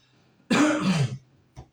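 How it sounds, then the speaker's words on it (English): A close, harsh cough bursts out for about half a second, then a short, quieter cough follows a moment later. "I got a little bit of a cough tonight"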